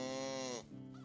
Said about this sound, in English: Man, animal sounds. I need to turn them down.